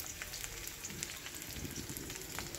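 Onion, dried red chili and nigella seeds frying in mustard oil, a steady close sizzle with crackling pops running evenly throughout, no voices.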